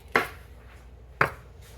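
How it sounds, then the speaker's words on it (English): Two crisp knife chops on a cutting board while preparing meatloaf ingredients, spaced about a second apart, close and clear with no talk. "We're delicately chopping these."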